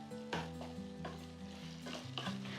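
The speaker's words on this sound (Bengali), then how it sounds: "এইটাকে কিন্তু আমাদের প্রায় ভালো করে 10 মিনিট ধরে কষাতে হবে।" Marinated chicken in a poppy-seed posto gravy is stir-fried in a pan, with a few sharp, close spatula scrapes over a continuous sizzle, while steady tonal music plays underneath.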